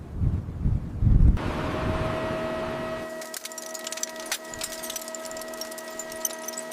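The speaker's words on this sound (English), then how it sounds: "Wind's picking up" Wind blows outdoors around a stranded cruise ship under restoration, a broad rushing gust that buffets the microphone loudly at first, then settles into steadier wind over faint creaks and tonal hum.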